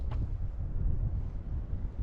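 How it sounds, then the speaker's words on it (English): Low, steady wind buffeting a microphone outdoors on a road at sunrise on a morning drive toward Creemore, a constant rumble with no clear gusts or other sounds. "Man, it's windy out here"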